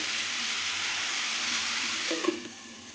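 Green hog plums frying under a lid in a pan give a steady, soft hiss throughout, with a couple of faint clinks near the end.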